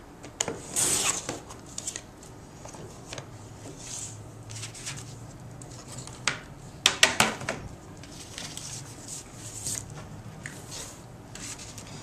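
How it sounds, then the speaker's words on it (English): A paper trimmer slices scrapbook paper with quick sliding swipes and soft rustles, several brief louder strokes standing out against a quiet room. "So I'm going to kind of line it up with the lines where I want it to cut off and use my trimmer."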